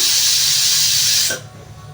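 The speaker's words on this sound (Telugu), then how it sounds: "ఇప్పుడైతే గ్యాస్ ఆన్ చేసి అయితే పెట్టేసుకుని టూ విజిల్స్ అయితే వచ్చే వరకు వెయిట్ చేద్దాం" A strong, continuous hiss of steam escaping through a pressure cooker whistle while cooking mango dal, stopping suddenly and leaving quiet background noise.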